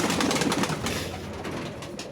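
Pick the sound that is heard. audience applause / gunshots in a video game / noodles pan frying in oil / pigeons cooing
pigeons cooing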